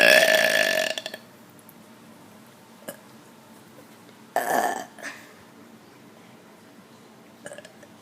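A person lets out a loud, long burp up close, followed by a few smaller burps and short gulping sounds with quiet gaps between them.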